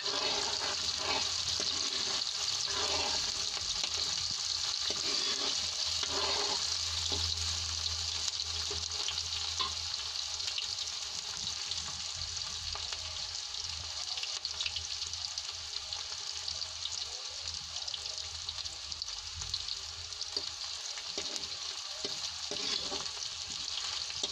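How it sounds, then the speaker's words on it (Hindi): Onions frying in a pan until lightly golden for radish koftas, a steady close sizzle with faint stirring scrapes running throughout, no voices. "हम प्याज को हल्का सुनहरा होने तक भूनेंगे"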